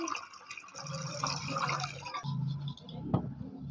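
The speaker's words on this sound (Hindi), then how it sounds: "तो पानी आपने इसके अंदर डाल देना है" Water poured into a goat feed mix, a fairly quiet steady trickling and splashing with a few drips near the end, heard alone.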